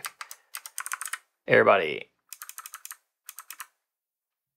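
Quick bursts of clicky typing on a computer keyboard on a Mac, close and crisp, in several short runs with a brief spoken word between them.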